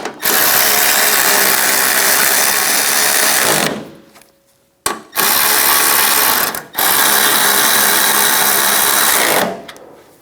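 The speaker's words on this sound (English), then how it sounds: "Put these two bolts in. Tighten those down." A power ratchet tightens bolts on the front fender of a 2011-2018 Ram 1500 pickup, loud buzzing whirring bursts close up, three long runs separated by short pauses and a click.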